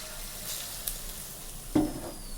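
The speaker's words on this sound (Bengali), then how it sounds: "তেল গরম হয়ে গেছে দেখো আমি এবার ছেড়ে দিচ্ছি" Gram-flour battered food dropped into hot oil in a home kitchen, raising a steady close sizzle with a sharp splashing burst as a piece hits the oil, heard alone.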